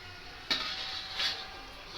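Cooked chittu urundai are lifted from a pan, with a soft background sizzle and two short metallic scrapes of a utensil against the pan, close but quiet, with no talk.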